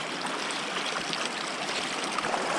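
Crystal clear river water in southern New South Wales flowing over stones, a soft steady babbling trickle heard close and alone at low volume.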